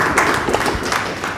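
An audience gives a short burst of applause, scattered claps and taps close by in a room.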